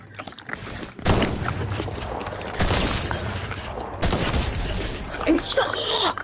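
Shotgun blasts in Fortnite, three loud sharp reports spaced about a second and a half apart, each with a crackling tail, against a busy game background.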